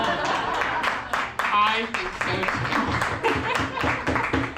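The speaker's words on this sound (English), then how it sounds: "By round of applause, who's going to assume they were put up by the same person?" Audience applause at a variety show, a dense crackle of many hands clapping that swells and carries on steadily with a voice briefly heard over it.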